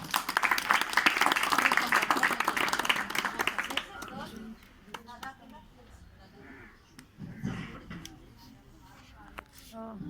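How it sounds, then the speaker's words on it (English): An audience at a school event claps for two Standard 6 student speakers, a loud, lively burst of applause for about four seconds that fades into quieter room noise, with children's voices and movement afterward. "Please give them a big round of applause."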